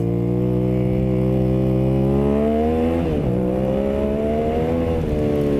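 A motorcycle engine revs loud and close, a steady harmonic drone that dips sharply around the middle and then climbs back up, with no talking over it.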